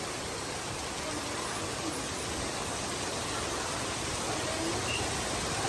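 Heavy rain pours down steadily over a school campus, a dense, even hiss of falling water that holds constant from start to finish with no voices.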